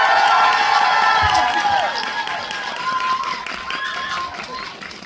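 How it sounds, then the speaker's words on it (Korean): A Korean event audience at a film talk cheers and applauds, a loud broad wash of crowd noise and shouts that starts strong and slowly tapers off, with a voice faintly heard over it. "여러분 충분히 박수와 함성 더 한번 해볼까요?"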